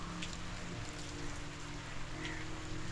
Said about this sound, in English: It is a warm rain.